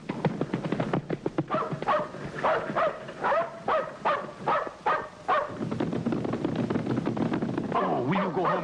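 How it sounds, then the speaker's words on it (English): A dog barks in a repeated run of sharp yaps and yips close by in an outdoor chase scene from a 1956 period drama, with voices calling out and urging children along around it. "Oh, will you go home, you terrible dog?"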